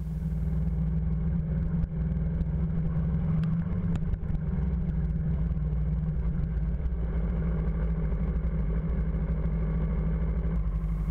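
A motorcycle engine drones steadily close by as an inline skater holds onto the moving bike, a continuous mid-pitched rumble with no talking.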